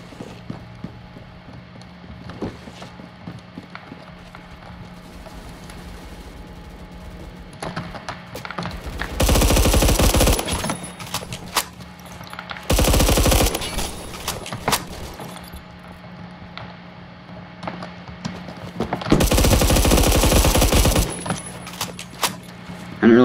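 AUG HBAR light machine gun firing in the Phantom Forces video game: three loud, sustained bursts of automatic fire, each lasting a second or two, separated by quieter gaps filled with soft keyboard clicking.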